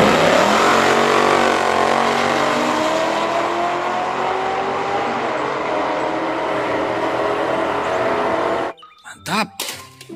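A race car engine roars loudly and continuously, with the revving pitch shifting, then cuts off abruptly near the end, followed by brief scattered sounds.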